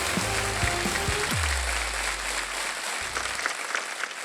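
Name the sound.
studio audience applause on Wheel of Fortune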